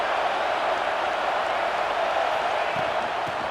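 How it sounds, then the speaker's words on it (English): Stadium crowd roaring during a USC vs UCLA rivalry college football game, a continuous, even wall of crowd noise that holds steady at a strong level with no clear breaks. "Listen to this crowd just shaking the girders of this place"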